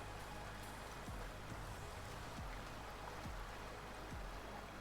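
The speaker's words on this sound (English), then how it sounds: "Where's the water to give us the running water sound effects?" Steady rushing water effect from Farming Simulator 19 on the Welker Farms map, a constant hiss with a few soft low thuds, unbroken for the whole stretch and heard alone.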